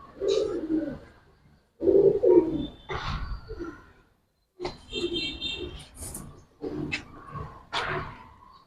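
Giribaz tumbler pigeons kept at a home loft give several separate short coos with silent gaps between them, close by and moderately loud, with a few sharper noises mixed in.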